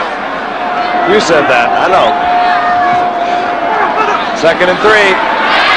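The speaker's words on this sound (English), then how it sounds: "You can just hear this rumbling in the crowd" A football stadium crowd at a 1978 Monday Night Football game between the Vikings and Bears rumbles as a broad, steady roar beneath commentators talking over it.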